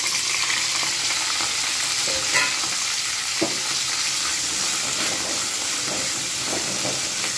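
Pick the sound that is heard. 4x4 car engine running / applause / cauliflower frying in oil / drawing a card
cauliflower frying in oil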